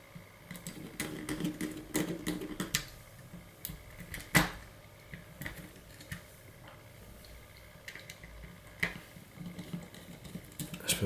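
Small metal screws being worked loose with a Phillips screwdriver from the circuit board of a Mario Edition Game Boy Advance, giving scattered light ticks and clicks with occasional sharper taps and no voices.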